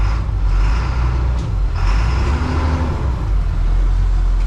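Freightliner Thomas Built school bus idling loudly and steadily as its air pressure builds, a constant low diesel rumble with faint hissing and no voices.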